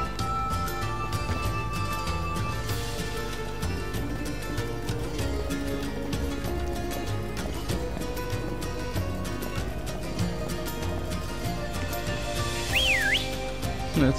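Whistling in the video game Pokemon Sword: a thin whistled tone sweeps up and down near the end, over steady, busy game music.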